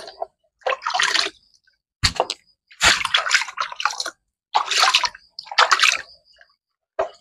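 Water splashes and pours in several separate bursts over orchid growing media set to soak, loud and close, with silent gaps between.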